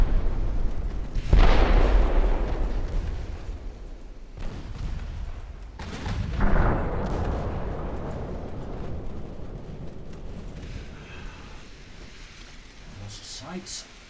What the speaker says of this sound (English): keep firing at the enemy cruiser